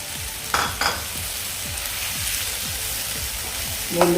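Bombil (Bombay duck) fish sizzles and fries in a masala in the pan, a steady crackling hiss with a couple of sharp scraping clatters near the start and a louder clunk at the end.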